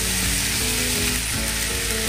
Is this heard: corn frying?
yes